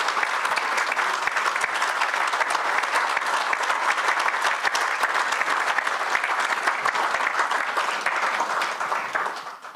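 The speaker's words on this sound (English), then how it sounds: "Round of applause." A steady, full round of audience applause at the unveiling of the GA EcoDrive cover, dense clapping holding for nearly ten seconds before fading slightly at the close.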